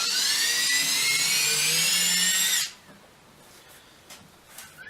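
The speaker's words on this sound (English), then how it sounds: "go ahead and drill your hole" A power drill whines loudly at high speed for a few seconds, then cuts off abruptly, leaving quiet room noise.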